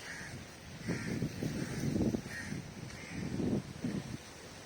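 Crows caw in the Pulau Ubin mangroves, a series of rough, rhythmic calls at moderate distance, repeating every half second or so, against a quiet outdoor background.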